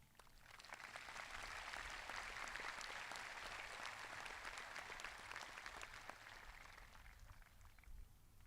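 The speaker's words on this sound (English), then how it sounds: "I think we should all give them a round of applause" A high school graduation audience gives sustained, dense applause to the teachers at the Belle Vernon Area class of 2022 commencement, swelling quickly and holding steady before tapering off near the end.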